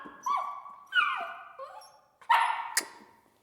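A puppy barks in short, high yips and bow-wows, about four sharp barks spaced unevenly with brief whimpery tails, close and fairly loud with no one talking.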